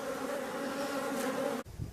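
Honey bees swarm and buzz at a beehive on a hot summer morning, a steady, close droning hum that holds evenly and then cuts off abruptly near the end.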